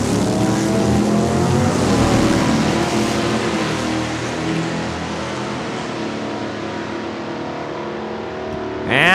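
Drag race cars, including the OK Tire Dodge Duster, launch at Saskatchewan International Raceway in Saskatoon, a loud roaring engine sound that fades into the distance, with another engine roar rising sharply at the end.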